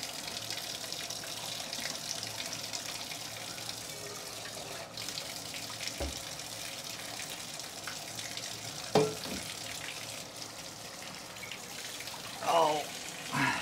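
Blackened floor-cleaning water is poured out, giving a steady, close gushing splash that runs throughout, with a few knocks and clatters near the end.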